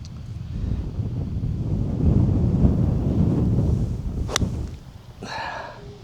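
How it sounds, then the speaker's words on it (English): Wind blows steadily across an open golf course at high elevation in Colorado, a broad low rumble buffeting the microphone and swelling in the middle before easing, with a brief sharp tick near the end. "Wind is into slightly, right to left."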